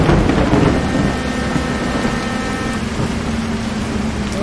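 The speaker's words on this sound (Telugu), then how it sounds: "game full rain effect" Steady heavy rain in a Bus Simulator game on a Setra double decker bus route, a constant broadband hiss with low rumbling underneath, loud and unbroken throughout with no voices.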